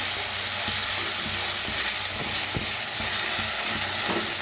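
Finely chopped onion roasting in a pan for sev bhaji, a loud dense continuous sizzle with scattered light stirring clicks throughout, no voices.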